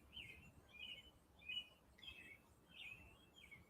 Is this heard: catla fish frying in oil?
no